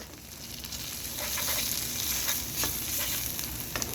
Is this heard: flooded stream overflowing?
no